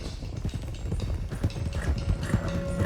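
Horses' hooves clop in a quick, uneven trot in Red Dead Redemption 2 as several horses are driven along, close and fairly loud with a faint whinny.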